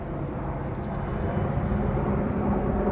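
A helicopter flying overhead in California, a steady loud engine and rotor roar that fills the whole moment without pause.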